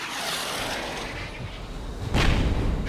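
Basic missiles explode in the flight combat game Metalstorm Online, a continuous rumbling roar that swells into a louder blast near the end, with no talking.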